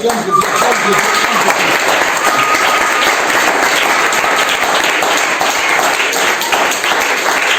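A church congregation at a deliverance seminar breaks into loud, sustained applause, dense clapping filling the whole stretch at a steady, close level, with a few voices mixed into the crowd noise.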